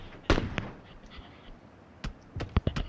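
Gunfire from shooters in a video game, a few sharp isolated shots followed by a quick ragged burst of several cracks, moderately loud against a quiet background with no talk.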